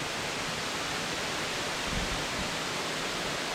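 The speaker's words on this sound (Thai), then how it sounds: "น้ำตกที่ไหลลงมานะครับ" A waterfall stream pours down with a steady, close, unbroken rushing hiss for a few seconds, with no voices.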